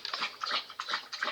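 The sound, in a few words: dog whimpering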